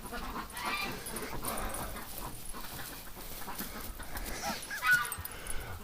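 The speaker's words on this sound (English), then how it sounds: "You see the crows are in, so he's just going nuts barking right now." Excited barking dog, worked up by crows, gives mid-distance barks mixed with panting and whimpers over steady outdoor background noise during a winter road trip.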